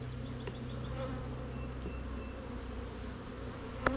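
Dense honeybees swarm around an open, crowded backyard hive, a continuous droning buzz with individual bees zipping close past now and then, steady and unbroken with no talking.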